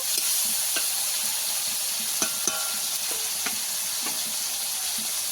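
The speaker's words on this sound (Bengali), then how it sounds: "টমেটোটা ভালো করে ভেজে ভাজা হয়ে গেছে" Chopped tomatoes frying in a pan as the base for a nehari fish curry: a steady, close hiss and sizzle with occasional light stirring scrapes and no talking.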